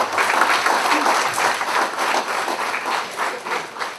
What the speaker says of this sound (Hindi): हम आपका एक बार पुनः जोरदार तालियों के साथ